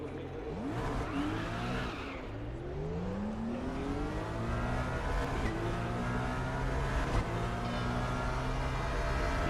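Simulated race car engine in RaceRoom played in VR, revving up and down through gear changes with rising harmonic sweeps, loud and continuous with faint tire noise underneath.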